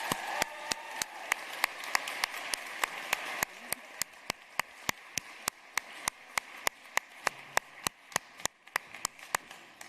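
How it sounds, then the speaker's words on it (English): Applause at a nursing pinning ceremony, a soft wash of crowd clapping under a series of sharp, evenly spaced clicks like a camera shutter, steady throughout at moderate distance. "let's get another round of applause and congratulations"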